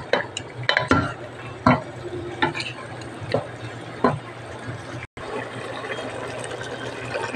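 Pork and tomatoes being sautéed in a pot for pork sinigang, with a close, steady frying sizzle under repeated scraping and clanking stirring strokes.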